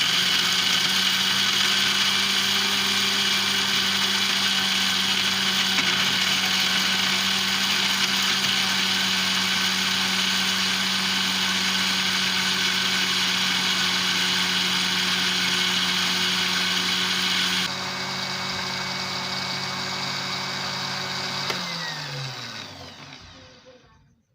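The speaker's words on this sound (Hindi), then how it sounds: "तो मसाला हमारा ग्राइंड हो चुका है।" An electric grinder whirs steadily while grinding achar gosht masala spices. The motor runs loud and continuous, shifts tone near the end, then winds down and stops.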